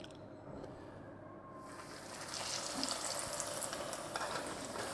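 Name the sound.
pork chops frying in hot oil in a pan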